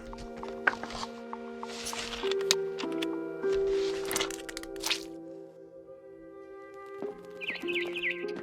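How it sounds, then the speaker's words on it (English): Birds chirp outside a window in the game What Remains of Edith Finch, a cluster of bright, quick tweets near the end over sustained tonal game music and soft ambience. "Then I heard chirping outside my window."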